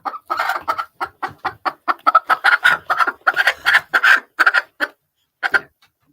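A chicken clucks in a rapid, steady run of short, close, fairly loud calls that trails off into a couple of final clucks.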